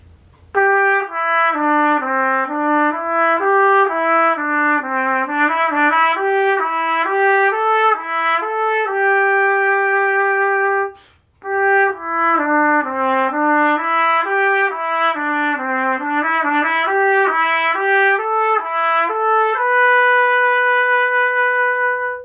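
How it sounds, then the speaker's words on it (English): A solo trumpet playing a smooth, flowing melody of clear sustained notes, with a short pause midway before the phrase resumes. "This is the trumpet that I use most of the time"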